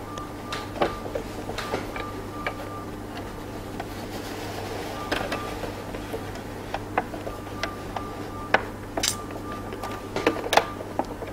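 A sewing machine stitches the waistband of drawstring pants, starting from a side seam, with a steady run of light mechanical ticks and clicks over a low motor hum, close by and moderately loud.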